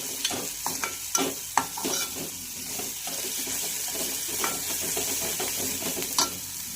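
Coriander powder and garam masala frying in a pan for a potato and cauliflower dish, steady sizzling under repeated spatula scrapes and taps, close and fairly loud.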